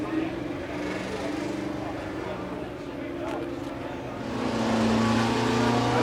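A 1959 Aston Martin DBR4 race car, running in the Richmond Trophy at Goodwood Revival, passes with a rough engine drone that swells louder near the end, heard from trackside while a person talks.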